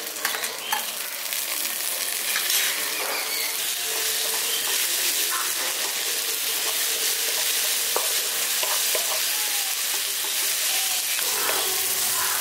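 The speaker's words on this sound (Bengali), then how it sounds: "এবার টমেটোটা দিয়ে দিচ্ছি" Two chopped tomatoes go into hot oil in a pan and fry with a loud, steady sizzle, while a spoon scrapes and clinks against the pan now and then throughout, with no voices.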